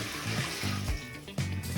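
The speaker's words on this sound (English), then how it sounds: "the force from the water is pushing everything through the toilet and down into the drain" A bucket of water is poured into a clogged toilet and rushes down the drain, giving a close, continuous splashing gush with gurgling surges. No one talks.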